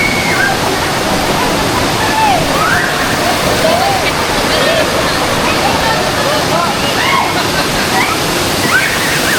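Lactas Falls in Dingalan, Aurora pours in a loud, constant roar of falling water that fills the whole stretch, with faint birdsong chirps rising above the rush.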